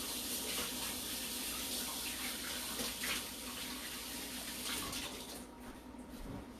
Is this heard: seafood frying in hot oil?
no